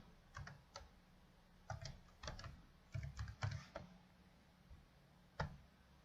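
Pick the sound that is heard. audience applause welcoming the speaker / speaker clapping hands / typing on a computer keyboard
typing on a computer keyboard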